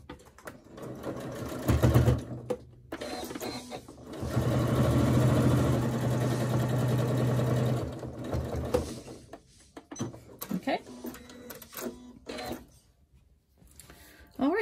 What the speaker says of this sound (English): just go ahead and baste them in place